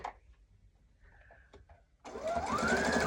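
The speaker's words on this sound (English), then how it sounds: "I'm going to sew right up through that line." A sewing machine starts up and runs steadily, stitching along a drawn line on fabric, close and fairly loud after a few quiet handling sounds.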